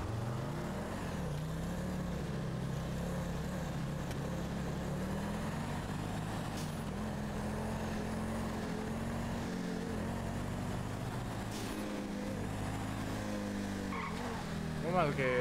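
Video game car sliding out of control, with a steady engine drone and tire noise holding throughout and a brief squeal near the end, under faint background sound.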